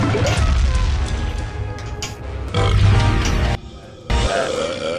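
Loud burps and grunts play from a Shrek pinball machine, several in succession, mixed with crashing game effects and short gaps of quiet between them.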